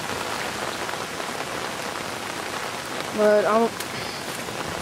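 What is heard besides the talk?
heavy rain during Hurricane Gustav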